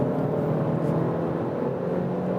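Inside a Hyundai i30 N pulling hard in third gear from 100 km/h, a steady muffled engine drone hums with road noise at moderate volume, without talk.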